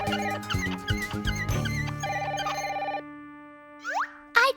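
A cartoon telephone rings in a busy animated scene, a series of bright electronic bell-like trills over music for about three seconds, followed by a couple of quick sliding whooshes and a short pop near the end.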